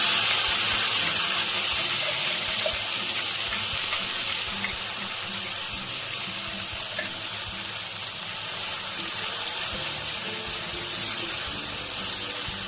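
Whole cardamom, cloves, cinnamon and bay leaves with ground masala paste hit hot oil for doi katla, giving a loud, steady, broadband sizzle that hisses continuously without pause.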